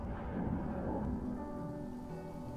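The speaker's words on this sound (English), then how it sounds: "Now it's raining on just us." Steady rain falls in an animated show, a dense, even rushing hiss with a low rumbling undertone that holds at constant level without any break.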